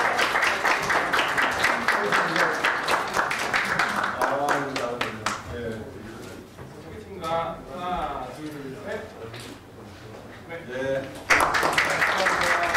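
Audience members at a startup weekend results ceremony applaud award winners, the clapping strong at first, then thinning under a host's talk before another burst of clapping near the end.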